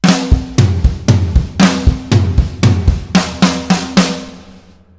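Drum kit fill from a song with the bass drum filling every empty note between the other hits, played as a fast, loud, evenly spaced run of punchy strikes with no talking.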